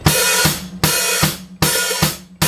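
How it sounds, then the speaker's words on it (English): A steady drum groove, bass kicks paired with hi-hat strokes that open into a sustained wash and then clamp shut, repeating in even rhythm. "start opening and closing your hi-hat back and forth"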